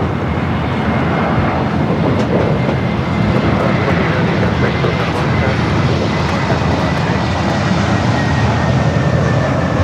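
Jet airliners, including Southwest and Virgin flights, taxi across runway 24 Left at Los Angeles International Airport, a steady loud engine roar and whine that holds constant throughout with no gaps.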